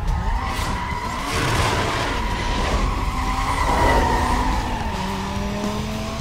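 A Dodge Viper tears through a race in Need for Speed Most Wanted, with a steady engine drone, tire skids and squeals, and gear changes heard as shifting tones, all loud and continuous.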